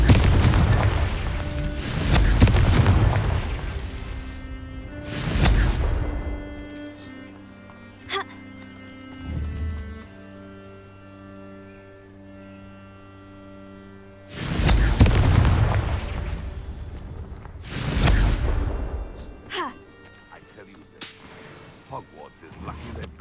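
Confringo blasting spells explode in the video game Hogwarts Legacy, four loud booming blasts spaced apart over a sustained musical score.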